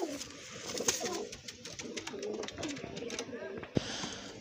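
Spotted pigeons coo softly among mixed bird calls, with a brief sharp knock near the end and people talking nearby.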